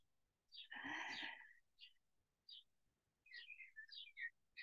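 Birds chirp and tweet outside a home in a series of short, bright calls, one loud burst near the start and then scattered and clustered chirps, quiet and somewhat distant, with no talk over them.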